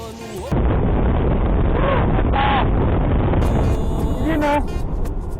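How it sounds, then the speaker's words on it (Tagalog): Strong wind buffets the microphone at the seaside in Lobo, Batangas, with a roaring rush and crashing waves that swell and fade, and brief faint voices come through near the end. "Bumubulong ang hangin, habagat at hampas ng alon."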